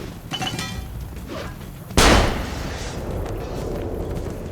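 A single sharp gunshot cracks out loudly midway in Assassin's Creed Brotherhood, followed by a short decaying rumble, with faint game ambience before and after.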